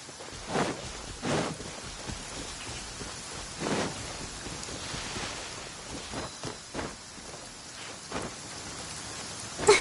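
Steady rain falls in the Genshin Impact game world, a constant hiss running throughout with a few louder gusts or drop bursts at intervals and no talk.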